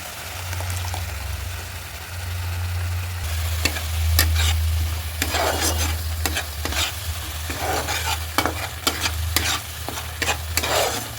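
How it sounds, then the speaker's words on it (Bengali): Onion paste mixed with a yogurt and cashew paste frying in a pan for doi katla fish curry, a continuous close sizzle with a low hum beneath and frequent sharp spatula scrapes and clinks in the second half, no talking. "পেঁয়াজ বাটাটা আমি ভালো করে ভেজে নেব একটুখানি"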